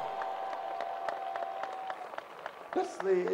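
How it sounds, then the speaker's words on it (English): Bayelsa-style audience clapping at a church gathering, a series of sharp rhythmic claps spaced across the clip over a steady tone, followed by a burst of louder crowd noise and voices at the end. "That's the Bayelsa clapping"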